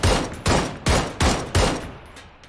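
Gunfire in the video game PUBG: five sharp, evenly spaced shots in quick succession, each a loud crack with a short decaying tail, heard alone.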